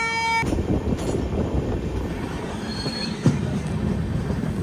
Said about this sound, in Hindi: तो अभी अपनी ट्रेन कर रही है फरीदाबाद को स्किप, मतलब फरीदाबाद से डिपार्चर ले रही है।